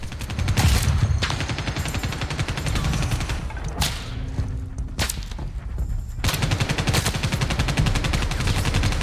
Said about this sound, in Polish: Tak na oko strzelam, tam chyba nie trafię.